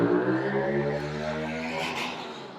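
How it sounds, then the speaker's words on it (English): A loud car passing close by outdoors, its engine roaring with a dense steady drone that slowly fades, heard alone with no talk. "Sorry, loud car going by."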